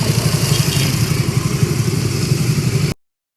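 A motorcycle engine idles steadily with a rapid, even putter, close by, then cuts off abruptly near the end.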